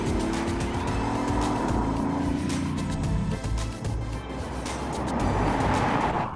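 A BMW i8 hybrid sports car running on both motors with 362 horsepower accelerates hard, a loud rising engine note with a gear change, close and continuous, with no talk.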